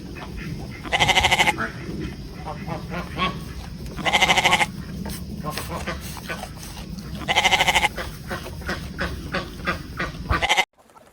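A goat bleats loudly three times at regular intervals, with quieter animal calls and farmyard noise filling the gaps between.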